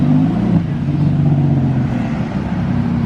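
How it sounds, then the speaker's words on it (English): A Ferrari 360 passing on the road during a car-spotting meet, its engine a loud, close, steady mechanical roar with a slight fade toward the end. "Pretty Ferrari 360 driving by."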